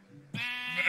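A single sheep in the Minecraft video game gives one short bleat that starts suddenly and holds briefly, fairly clear against a quiet background.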